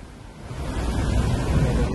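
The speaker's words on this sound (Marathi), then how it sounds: "बघा धबधबो धबधबो बघा धबधबो" Waterfall in foggy, monsoon-season Amboli, heard as a steady broadband rushing roar at a moderate distance, with no voices over it.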